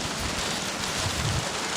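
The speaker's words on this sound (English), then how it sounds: "Oh, we're getting some bloody lightning and rain tonight." Dense rain pours down hard during a nighttime storm tied to a passing cyclone, a loud, continuous wash of noise with faint low gusts rolling through it.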